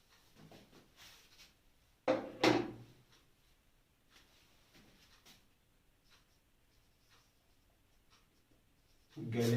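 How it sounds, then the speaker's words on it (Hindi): Someone writes on a board in a classroom lecture, with faint scratchy strokes in short bursts and a couple of louder knocks, quiet and near. "इसको हम लिख देते हैं"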